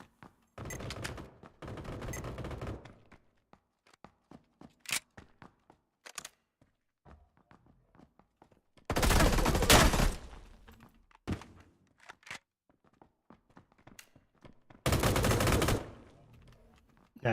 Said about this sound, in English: I started shooting with like a pistol.